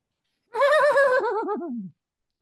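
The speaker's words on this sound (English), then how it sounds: "And his horse goes up on its hind legs and probably makes some sort of noise, Bob." A horse's neigh in a comic-book scene: a loud, close whinny of about a second and a half, wavering in pitch and falling toward the end, with no talk over it.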